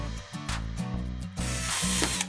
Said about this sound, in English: Alright, let's grab the drill.